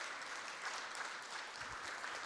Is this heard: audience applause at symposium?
yes